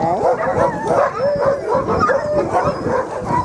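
Sled dogs barking, yipping and whimpering during a dog sled ride in Longyearbyen above the Arctic Circle, a loud, excited chorus of repeated close barks and howls, with some human voices mixed in.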